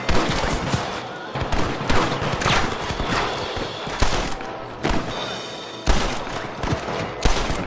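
Rapid volleys of gunfire in the Red Dead Redemption video game, loud and close, with repeated bursts of overlapping shots over about eight seconds and brief gaps between them.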